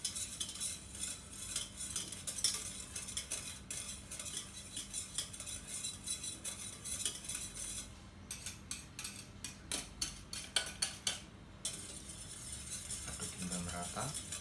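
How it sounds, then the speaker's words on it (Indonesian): A utensil stirs homemade yogurt in a container, making repeated close clinks and scrapes in an uneven rhythm over about fourteen seconds, with a few brief pauses. "Kita aduk-aduk"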